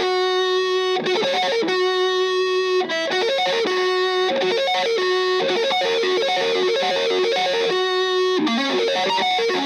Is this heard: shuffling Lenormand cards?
no